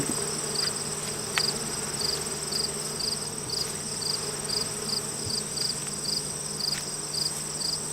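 Honeybees buzz steadily around a backyard hive, a constant close drone with a faint regular chirping pulse running through it and no talking.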